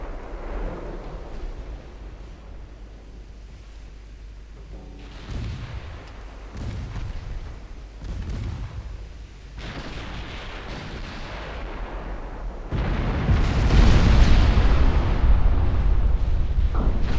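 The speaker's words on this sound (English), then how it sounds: "Both ships' secondary guns focusing the Valiant." Naval secondary guns fire during a battleship engagement in Ultimate Admiral Dreadnoughts, heavy booming blasts spaced every couple of seconds that build into a louder, sustained rumbling barrage near the end.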